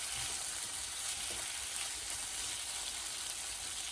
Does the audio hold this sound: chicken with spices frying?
yes